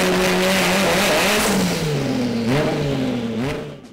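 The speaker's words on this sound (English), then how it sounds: "The engine surges under load." A turbocharged K24 engine in a Ferrari drones loudly under load on a dyno, its pitch wavering and surging in a rhythmic wah-wah pattern, close and sustained.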